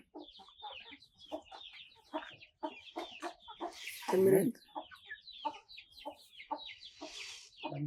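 Free-range country chickens cluck in quick, rhythmic bursts as they come to eat scattered broken rice, with one louder, harsher squawk midway amid the steady nearby clucking.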